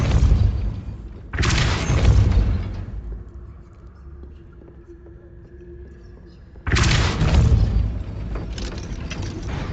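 A Depulso spell cast in Hogwarts Legacy, heard as two loud, broad bursts of game effect noise at the start and again near the end, with a quieter, low stretch of ambience between them.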